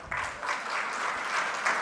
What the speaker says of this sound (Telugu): మళ్ళీ ఒకసారి చప్పట్లు కొడతారా?